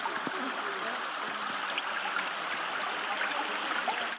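A stream of sewage flowing down a residential street rushes in a steady, dense watery hiss, continuous and fairly loud before cutting off abruptly at the end.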